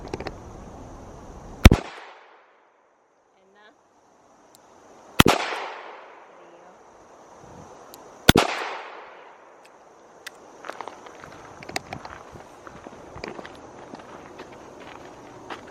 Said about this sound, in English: now I'm gonna be shooting 32 H&R Magnum out of the 632.